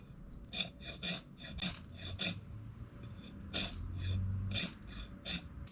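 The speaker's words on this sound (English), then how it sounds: "let's see if it's still sharp enough to spark a ferro rod" The spine choil of a knife scraped repeatedly along a ferro rod, producing short gritty rasping strokes in an uneven rhythm, close and fairly soft, with no talking.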